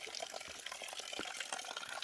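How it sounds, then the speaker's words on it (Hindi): Water from a natural mountain spring runs in a steady, soft splashing stream. The flow is faint and close by, with no voices over it. "ये पहाड़ों से आ रहा है पानी।"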